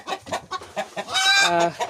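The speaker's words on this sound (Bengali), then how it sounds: "মোরগ আছে 2টা, মুরগি 3টা।" Two roosters and three hens clucking in short repeated bursts, close and fairly loud, with a longer drawn-out cackle near the middle.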